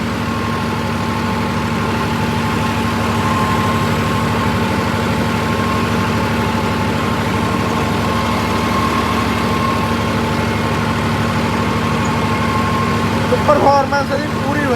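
A Swaraj 969 CRDI tractor engine runs at a steady idle throughout, loud and close, with a constant low droning hum.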